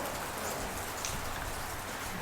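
Steady rain pattering on a surface, a continuous dense hiss of drops with no voices.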